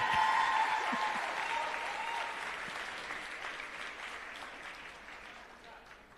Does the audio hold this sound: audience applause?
yes